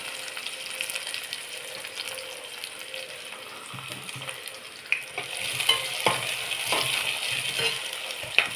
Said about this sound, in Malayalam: ഉള്ളി ആദ്യം വഴന്ന് വന്നെങ്കിലേ നമുക്ക് മരുന്നിങ്ങ ഇടാൻ പറ്റുള്ളൂ